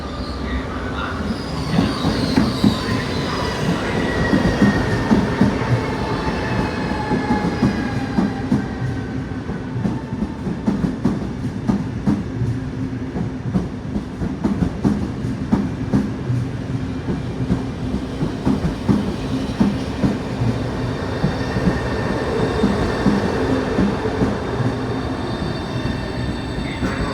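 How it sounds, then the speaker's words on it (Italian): A Trenitalia regional express train pulls into platform 4 at Venezia Mestre station, its wheels squealing and rumbling with rhythmic clickety-clack, loud and close, while high-pitched brake screeches glide across the steady rolling noise. "la regionale veloce di Trenitalia proveniente da Venezia Santa Lucia e diretto a Sacile delle ore 14:44 e in arrivo al binario 4"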